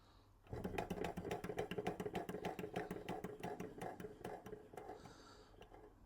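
A George Carette 1911 hot air Stirling engine, only partly working, runs with a quiet, rapid train of regular mechanical clicks and clatter that eases off toward the end.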